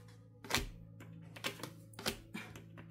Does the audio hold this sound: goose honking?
no